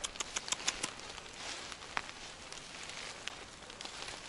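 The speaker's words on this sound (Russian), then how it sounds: "Дождик капает полным ходом." Light patter of raindrops falling on leaves and surfaces outdoors, with a few sharper drips standing out against a steady soft hiss.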